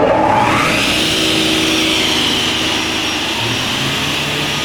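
A 1996 Altendorf F90 Elmo sliding table saw motor runs steadily at full speed, a loud continuous whirring hum after a brief spin-up at the start, with no talk over it.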